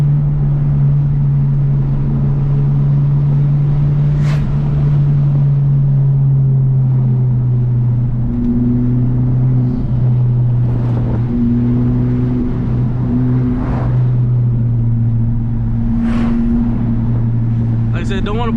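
A tuned 2017 Honda Civic Type-R engine drones steadily from inside the cabin on a canyon run, its pitch sagging and climbing between gears, with a few sharp clicks over the rumble.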